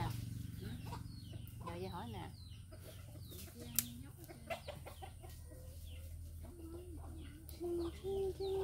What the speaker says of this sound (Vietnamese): cái này nuôi gà đá hay gì